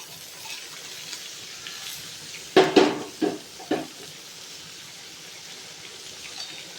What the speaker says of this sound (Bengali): এটা একটু কিছুক্ষণ ভেজে নেব, খুব বেশি ভাজবো না।